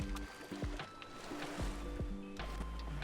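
A character running into ocean water in the survival game Stranded Deep, faint rhythmic splashing steps through shallow surf, with soft wave noise.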